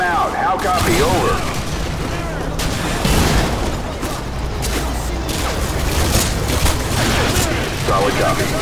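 Heavy gunfire and booming blasts in a Call of Duty: Modern Warfare 2 firefight against a sentry gun, dense and continuous, with explosive thumps under raised voices.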